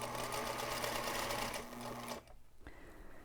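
A sewing machine runs steadily as it stitches rows of a quilt, a fast even hum that cuts off sharply partway through, followed by quieter handling noises.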